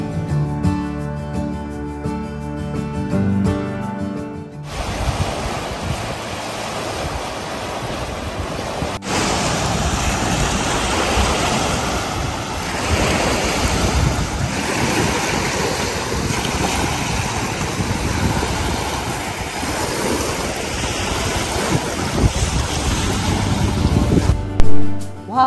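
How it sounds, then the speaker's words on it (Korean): Waves on Yellowstone Lake break on a gravel shore in a loud, continuous rush and wash of water. Strong wind buffets the microphone throughout. "자갈에 부딪히는 파도 소리가 아주 상쾌합니다."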